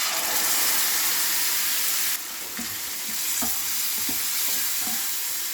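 Tamarind pulp hits a pan of sizzling onions for sambar, giving a loud, close, continuous frying hiss that shifts when the liquid goes in, followed by soft scraping stirring taps.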